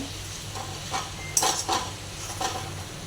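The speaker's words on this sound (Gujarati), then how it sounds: "વ્યવસ્થિત મિક્સ કરી લેવાનું" Spoon stirring kothimba (kachri) vegetable curry in a pan, soft scraping strokes with a faint sizzle, a few distinct stirs close by and no talking.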